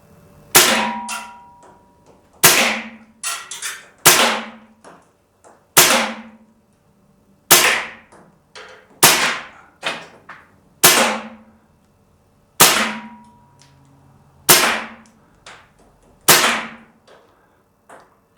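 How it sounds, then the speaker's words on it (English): Umarex T4E HK416 CO2 paintball rifle firing rubber bullets inside a shipping container, about a dozen sharp, loud single shots spaced a second or two apart, each ending in a short metallic ring. "HK416 paintball rifle. And again, we're using rubber bullets, so I don't make a big mess in my C-can here."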